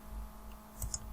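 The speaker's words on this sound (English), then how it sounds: "So let's click on run." Two quick computer mouse clicks sound close and faint in a quiet room, a brief pair of sharp ticks.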